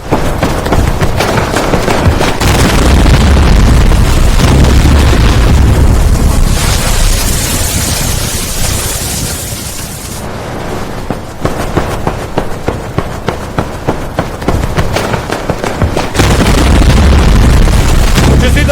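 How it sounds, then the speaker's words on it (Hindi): A suicide bomb blast at a mosque in Pakistan during Friday prayers: loud, dense rumbling bursts and crackling pops fill the air continuously, with sharper repeated bangs later on and no clear speech. "मस्जिद में जुमे की नमाज के वक्त धमाका हुआ"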